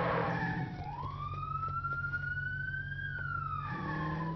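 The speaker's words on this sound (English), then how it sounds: "There's a police car up in front of us." A police car siren in a racing video game wails in one long rising and falling sweep over a steady engine drone, fairly close and clear, with no talking.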